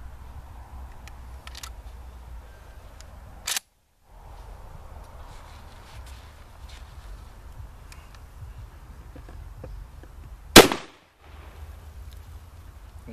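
IAC Hawk 981R shotgun fired once with Rio Royal low-recoil buckshot, a single loud sharp blast near the end that decays quickly, with a fainter click or shot earlier and low background noise throughout.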